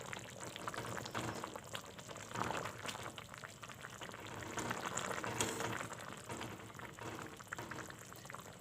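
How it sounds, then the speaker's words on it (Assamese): A cooking pot of liquid at a rolling boil, giving a steady bubbling, seething hiss with soft gurgles and pops that swell and fade, close by and without talk. "এয়া চাওক কি ধুনীয়া উতলিছে।"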